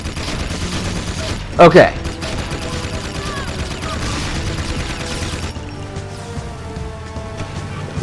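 Gunfire in the Jak II video game, a dense burst of rapid shots with one loud sharp blast in the middle, over steady game music and effects, with a brief spoken word.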